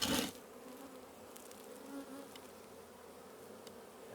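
Honeybees hum in a dense, close, continuous buzz from an open city beehive with brood frames exposed. A louder burst of buzzing comes right at the start.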